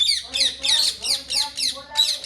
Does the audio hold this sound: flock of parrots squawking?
yes